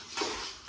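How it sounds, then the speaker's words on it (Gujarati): Puffed rice being tempered in a pan at a farm, with a short stirring scrape and light sizzle near the start and another brief scrape at the end, close and fairly quiet. "બસ હવે વઘારે છે મમરા."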